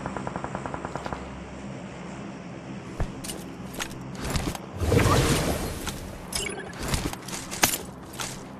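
Gunfire in a mobile shooter video game played on an iPad Pro, with sharp single shots and short automatic bursts, some close and loud, others distant, over faint background engine and helicopter-like hum.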